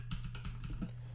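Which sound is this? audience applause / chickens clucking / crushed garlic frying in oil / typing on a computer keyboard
typing on a computer keyboard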